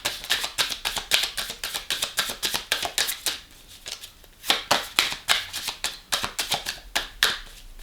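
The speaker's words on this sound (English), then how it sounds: "One more shuffle." Tarot cards are shuffled in rapid, crisp riffling bursts that repeat steadily for several seconds, loud and close, with no talking.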